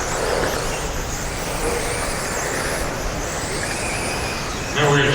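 Race car engine in a racing video game, a steady loud drone held throughout with no voices over it.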